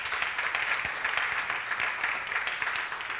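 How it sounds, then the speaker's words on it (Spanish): A church congregation applauding during a Sunday service, a steady broadband wash of clapping that holds evenly throughout with no pauses. "Un aplauso para Naroli"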